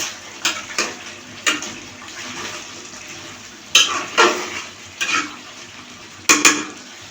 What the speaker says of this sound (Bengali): এখন আমি পানি দিয়ে দেবো